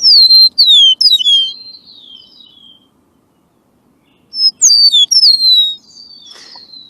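A songbird related to blackbirds and orioles sings two bright, slurred whistled phrases separated by a quiet pause of about a second and a half, clear and fairly close with no other sounds.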